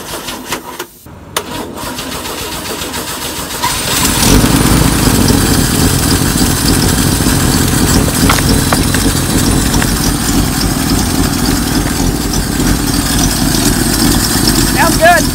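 A Land Rover Series 2a engine cranks after a few seconds of quieter handling noise, then catches and settles into a loud, steady, slightly uneven idle that runs to the end.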